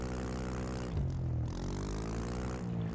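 A car engine drives in the video game Mon Bazou, a steady droning hum with pitch dipping and rising as the car shifts and accelerates, continuous and fairly loud with no talk.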